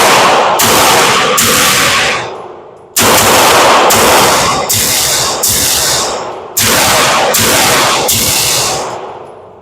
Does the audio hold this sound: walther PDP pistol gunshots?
yes